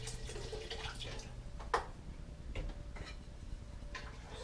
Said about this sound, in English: we're going to add some chicken broth